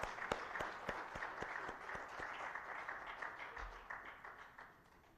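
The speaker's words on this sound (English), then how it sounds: "I think she deserves a very good applause" Applause from an audience at a World Wildlife Day event, a few sharp individual claps up front and then a fuller, fairly quiet wash of clapping that gradually fades.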